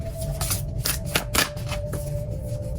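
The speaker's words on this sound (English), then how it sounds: "When I was shuffling the Victorian Phantasmagoria deck" A Victorian Phantasmagoria tarot deck is shuffled by hand, giving a run of crisp, close riffling and flapping bursts in an uneven rhythm with no talking.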